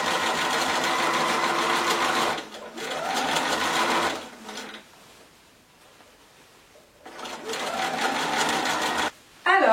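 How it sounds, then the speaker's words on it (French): A sewing machine stitches the seams of a wool winter coat with a lining, running in long steady bursts with a pause in the middle, close and loud. "Alors j'ai passé mon manteau à la machine"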